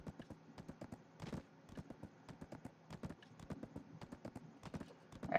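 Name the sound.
horse hooves clip-clopping in video game Black Desert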